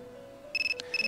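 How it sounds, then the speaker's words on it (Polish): A phone rings in the video game Persona 3 Portable, a loud, close electronic trill in two short bursts broken by a brief pause, over a low steady background tone. "Dzwoni telefon! Dzyń, dzyń!"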